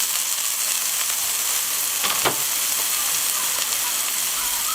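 Saumagen, a stuffed pork stomach, frying in hot oil in a pan, giving a loud, steady, close sizzle that hisses on without a break and with no voices over it.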